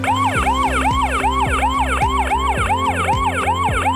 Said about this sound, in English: there will be a siren ringing in the door lock